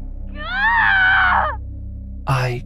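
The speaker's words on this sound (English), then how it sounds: "I do appreciate all the lovely screaming, but I'm afraid that's not helping" A woman lets out a long, high, wavering scream close by, then a second sharp scream cuts in after a short pause, all over a low steady hum.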